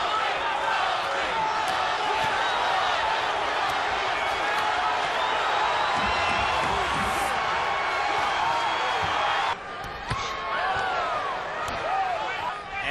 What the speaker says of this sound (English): Crowd is starting to chant Toney